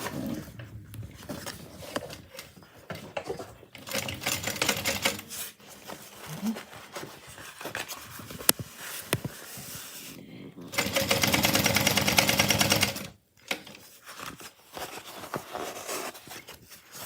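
A sewing machine topstitches a handmade bag in several bursts of rapid, steady whirring, with one long continuous run in the middle and quieter fabric handling between passes.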